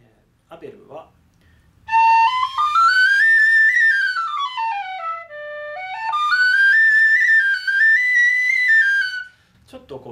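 A Chris Abell tin whistle in D, made by a flute maker, sounds a loud, close melodic phrase that climbs, dips and climbs again, with a slightly breathy, airy tone and short pauses at either end.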